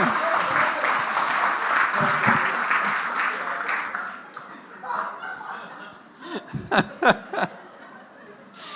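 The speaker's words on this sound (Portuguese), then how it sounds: "Vamos aplaudir assim" Applause and laughter from a church congregation during a celebration service, clapping loud at first and then fading as chuckles and laughs rise, with voices near the end.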